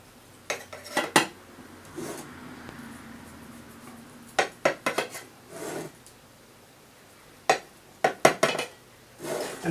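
A pineapple upside down cake being sliced and served in a kitchen, with clusters of knife and utensil clinks against a plate and pan, separated by short quiet stretches.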